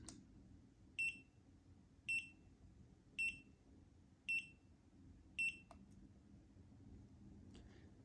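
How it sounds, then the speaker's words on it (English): An NC Miata multi gauge display gives five short, high electronic beeps, evenly spaced about a second apart, over a faint low hum. "Holding down for 5 beeps will put you into the oil pressure only mode."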